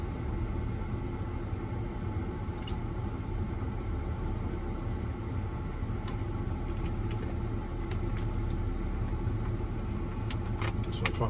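BMW E71 X6 with flappy-paddle gearbox sitting in traffic in cold weather, its engine giving a steady low idling rumble with cabin road noise and a few faint clicks throughout.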